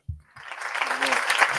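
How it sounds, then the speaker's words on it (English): A comedy club audience breaks into clapping, the applause building from a few scattered claps into a fuller, sustained round. "Clap it up if you do have a dad. Clap if you got a father."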